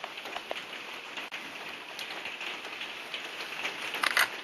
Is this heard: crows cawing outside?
no